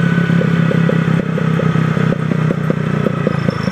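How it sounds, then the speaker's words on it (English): Loud motorcycle engine running on E100 ethanol, idling close by, with a steady throb and irregular sharp pops and crackles from the exhaust. "sometimes the exhaust does pop"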